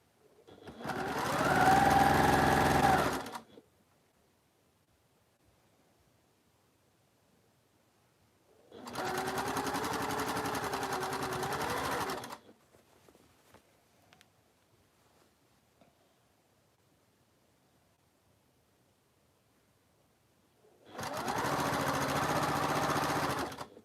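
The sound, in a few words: sewing machine stitching quilt seams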